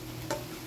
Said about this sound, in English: I'm going to go ahead and mix the sausage all in it